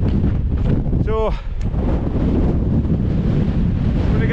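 Strong, steady wind roars and buffets the microphone on the exposed hilltop summit of Windy Gyle in Northumberland, loud and continuous throughout, with one brief spoken word partway through.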